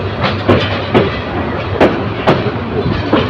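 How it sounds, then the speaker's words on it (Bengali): Close, loud rhythmic clickety-clack of train wheels rolling over rail joints as the Kishorganj Express leaves Manikkhali railway station, a steady run of beats under constant rumbling. "ট্রেনটি বাঘ নিয়ে মানিকখালী রেল স্টেশন থেকে বেরিয়ে যাবে"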